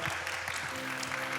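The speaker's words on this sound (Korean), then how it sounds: "서로 우리 경의의 박수를 하고 이제 오늘 위크를 마치도록 하겠습니다." An audience at a global citizenship event applauds together, a steady, dense clatter of hands heard from within the hall, with faint voices or tones underneath.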